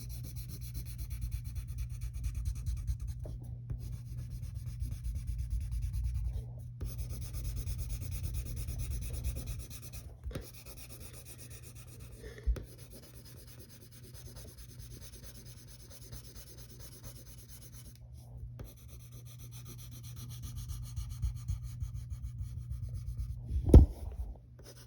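Continuous soft rubbing of pencil shading on paper, scratchy strokes in bursts with brief pauses and an occasional tap, close and quiet throughout.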